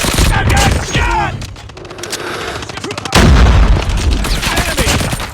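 Rapid bursts of gunfire and explosions in a multiplayer shooter video game match, dense and loud throughout with a heavier boom at the midpoint, while game voice callouts speak over the action.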